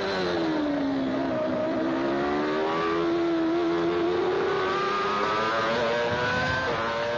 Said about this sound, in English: Blundell's McLaren and Barrichello's Jordan were locked in a battle for 4th